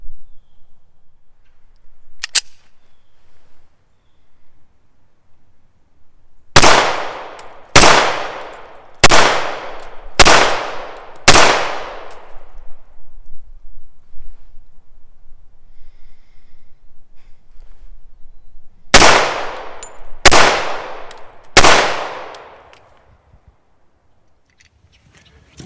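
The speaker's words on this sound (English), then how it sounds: "we're going to try some faster shooting on the human silhouette style target" Smith & Wesson 745 pistol fired rapidly at a silhouette target from 50 feet on an outdoor range: a loud string of five sharp shots with ringing decay, a pause, then three more in quick succession.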